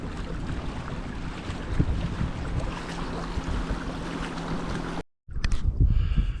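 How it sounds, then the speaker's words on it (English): Steady roar of fast skeeter-type motorboats speeding across a lake, with wind and water rushing, continuous and fairly loud, cutting out briefly near the end. "There's a couple of them skeeter type boats. They're flying along, heading right up the top of the lake area."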